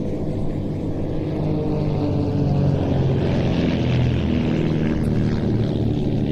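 Aerobatic display aircraft flying in a four-ship box formation at an airshow in Leszno, producing a continuous, fairly loud engine drone that swells slightly midway with no voices over it.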